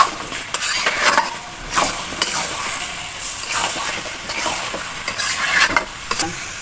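Salted jujube pickle being stirred in a pan, with a steady scraping and stirring rhythm over a light sizzle, close and moderately loud, no talking.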